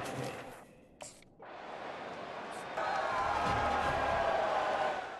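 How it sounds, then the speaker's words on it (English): A stadium crowd in College Football 25 roars and cheers, swelling after a brief dip into a sustained, louder wash of crowd noise. "the crowd going crazy"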